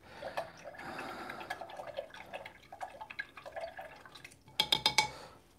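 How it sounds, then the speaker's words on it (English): An acrylic paintbrush is rinsed in a jar of water, giving close, irregular swishes, drips and small splashes, then a quick cluster of bright clinks against the glass near the end. "Washing the brush, wiping it."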